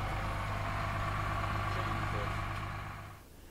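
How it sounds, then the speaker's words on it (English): A Panda generator runs in the engine bay of a Broom 42 boat, a steady loud low mechanical hum that fades away near the end. "So that is the Panda generator."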